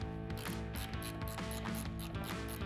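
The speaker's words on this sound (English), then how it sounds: "Using a 17 metric wrench, remove the four nuts here, here, here," A 17 mm metric wrench ratcheting steadily as it removes nuts from the ratchet assembly of a Boon Edam Turnlock 100 full-height turnstile, fast regular metallic clicks up close.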